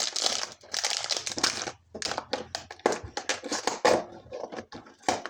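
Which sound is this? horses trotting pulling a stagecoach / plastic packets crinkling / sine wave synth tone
plastic packets crinkling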